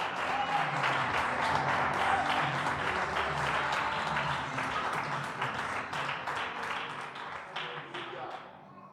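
Church congregation applauding loudly during a worship service, a thick run of clapping with individual claps standing out, fading toward the end while voices murmur beneath.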